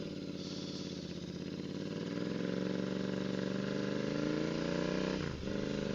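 A Royal Enfield motorcycle engine fitted with a DNA performance air filter revs up steadily from low revs in first gear, its deep throbbing rumble rising in pitch, then briefly dips near the end before pulling again.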